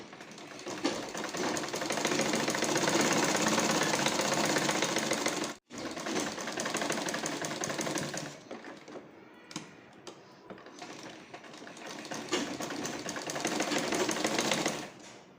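A sewing machine stitches layered fabric pieces for a bra in a long, loud, close hum, with one brief stop and several short pauses and shifts later on.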